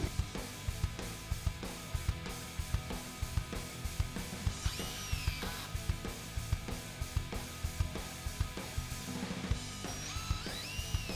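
Stainless steel screws driven at a 45-degree angle through hidden siding clips into premium hardwood siding, a power driver whirring in short bursts amid repeated sharp clicks and knocks, close and steady throughout.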